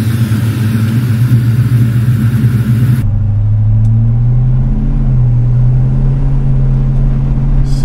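A 1957 Chevy Bel Air engine with headers running straight back to a pair of Dynaflow mufflers, loud and close, rumbling deeply and shifting in pitch as it revs, with no talk over it.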